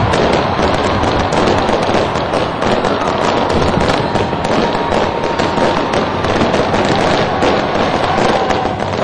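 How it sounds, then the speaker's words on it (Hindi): Dense, continuous crackling and popping of New Year fireworks in Australia going off in rapid succession, loud and unbroken throughout. "शानदार आतिशबाजी का दौर शुरू हो गया"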